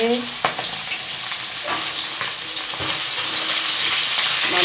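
Fish frying in a pan gives a loud, close, continuous sizzle and crackle, punctuated by several scraping stirs and utensil knocks.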